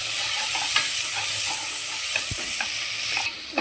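Onions sauté in a pan with cinnamon and cloves, giving a continuous loud sizzle with occasional scrapes and stirring knocks, and no talking.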